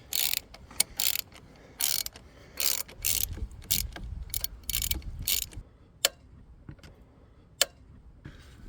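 A ratchet clicks in quick bursts while tightening engine mount bracket bolts on a Ford Focus ST225, close and crisp, with short pauses and a few isolated louder clicks.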